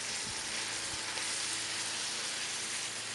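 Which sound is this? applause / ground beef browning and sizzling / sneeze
ground beef browning and sizzling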